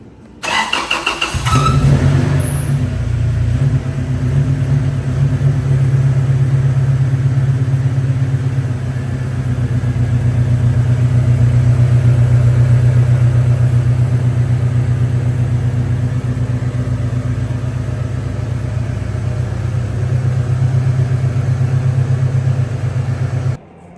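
A Toyota Tacoma pickup truck's engine cranks and catches, then settles into a loud, steady, rumbling idle that continues close by for about twenty seconds.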